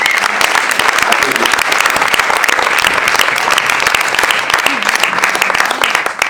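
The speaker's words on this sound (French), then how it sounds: "Je vous demande donc d'applaudir Stéphane Leduc et Charlie Lamédy." Loud, dense audience applause at a fashion and design festival in Montreal, constant rapid clapping sustained across several seconds without pause.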